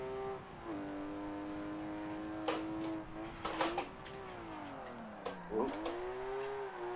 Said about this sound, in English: This car actually sounds pretty good.